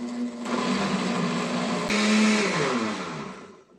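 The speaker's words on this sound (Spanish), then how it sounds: "Y nuevamente lo vamos a llevar a licuar, pero esto sí lo vamos a licuar súper, súper bien licuadito" A blender whirs steadily, liquefying mango pulp with water for a mango lemonade, a loud continuous motor drone with a brief pitch shift midway before winding down.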